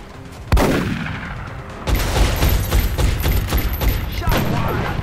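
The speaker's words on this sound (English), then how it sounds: "Shot fired." Gunfire in XCOM: Enemy Within: one sharp, loud shot rings out, then a denser stretch of rapid shots and impacts follows, close and forceful, with faint voices under it.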